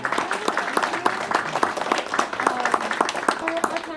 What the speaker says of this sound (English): we'll give everyone a round of applause